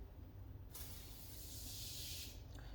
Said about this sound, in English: Again, we spray away from the vehicle.